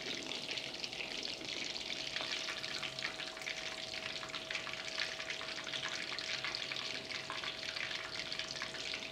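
Pork belly for lechon kawali being deep fried a second time at higher heat, a steady, dense crackling hiss of hot oil that runs evenly throughout with no talking.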